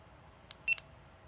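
Pressing the shutter button on a GoPro camera sets off a short, faint electronic beep with a couple of soft clicks in a quiet room.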